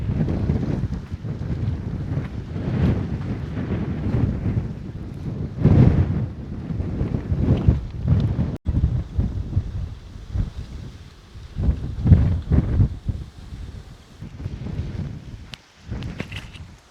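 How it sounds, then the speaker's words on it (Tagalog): Strong gusty wind on a mountain summit, Mt. Gulugod Baboy, buffets the microphone in a continuous low roar that surges and eases in rough bursts. "Lakas ang hangin."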